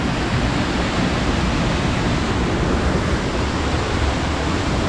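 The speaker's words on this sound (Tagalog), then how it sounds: "ang ganda ng mini falls to" A small waterfall pours from a repaired water line in the province, making a steady, loud, close rushing of water that continues without change and with no voices.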